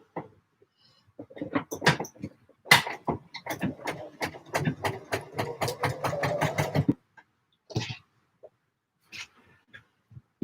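A domestic sewing machine top stitching a McCalls 7537 garment runs in short bursts, then a long, steady rapid stitching run of clear repeated needle strikes, close and fairly loud, followed by a few brief stops and taps.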